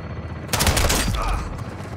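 Call of Duty: Modern Warfare II gunfire erupts suddenly after a brief quiet, a loud dense burst of rapid shots and mechanical clatter from an in-game firefight.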